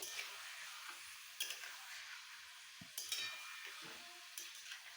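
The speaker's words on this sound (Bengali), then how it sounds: "পেঁয়াজ কালিগুলোকে দিয়ে দিয়ে তারপরে একটু ভালো করে নেড়ে নিতে হবে" Onions being stirred in a frying pan while a mild sizzle hisses steadily, with several distinct scraping and clinking stir strokes scattered throughout, close and fairly quiet, no talking.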